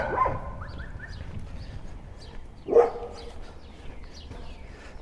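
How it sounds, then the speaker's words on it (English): Big dogs bark on a city street on Capitol Hill, a couple of sharp woofs at the start and a louder bark midway, moderately distant, with faint bird chirps and outdoor ambience and no talking. "Ooh, those are some big dogs."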